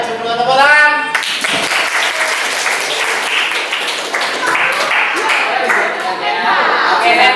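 A classroom of students claps hands together in a brief scattered burst, heard loud and close with voices talking over and around the clapping.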